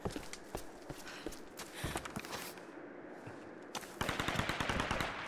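Enemies fire rapid volleys at close range in Tomb Raider 2013, with scattered shots giving way to a dense, loud burst of automatic fire at the end.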